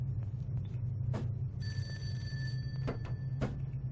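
A telephone rings inside a GMOD game scene, a steady electronic tone with harmonics lasting about a second amid a low droning background, with a few brief clicks or knocks around it.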